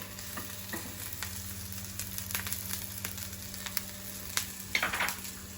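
Capsicum sizzling and frying in a pan for honey chilli potato, a steady crackle with scattered stirring scrapes and a few louder pops near the end, no voices.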